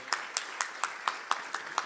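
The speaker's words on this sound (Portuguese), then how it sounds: "Aplauda o Senhor, hein?" Steady rhythmic clapping from a church congregation applauding, eight evenly spaced claps in under two seconds, fairly close and crisp.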